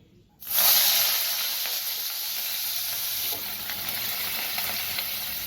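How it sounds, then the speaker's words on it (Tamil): Onions dropped into about three teaspoons of hot oil for mutton liver, a sudden loud sizzle bursting in after a brief quiet, then settling into a steady bright hiss and crackle. "இப்போ எண்ணெய் சூடானதும் வெங்காயம் போட்டுக்கோங்க"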